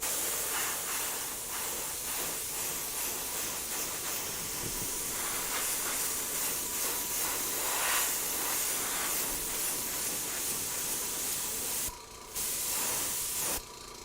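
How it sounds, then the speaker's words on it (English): An airbrush sprays Alpha Air paint onto a panel in a steady close hiss of fine mist, broken by two short pauses near the end. "with the airbrush, it's just giving a nice mist right on top of the panel there"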